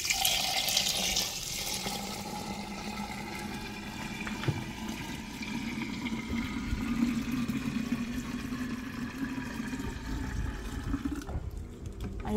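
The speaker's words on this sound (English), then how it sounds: "I'm just going to pour right into my juice container just to remove all the little particles that leave in the juice" Cucumber and June plum juice pours through cheesecloth into a juice container, giving a steady, close trickling and splashing stream that lasts several seconds before stopping abruptly near the end.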